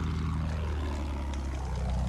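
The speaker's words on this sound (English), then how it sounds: "Feindliches Flugzeug, Jungs!" An enemy propeller aircraft in a first-person shooter video game drones steadily overhead, with a loud, sustained engine roar throughout.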